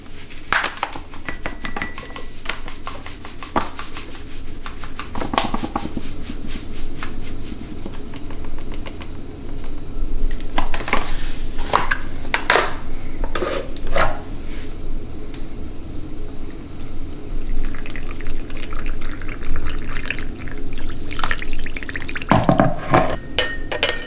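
Sugar being stirred into water to dissolve it for an elderflower cider, with repeated clinks and scraping of a utensil against a container, fairly close and steady throughout, with no talking.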